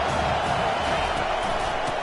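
Dense stadium crowd noise at a college football game between Michigan and Louisville, a steady loud roar with scattered shouts and cheers filling the whole stretch without a break.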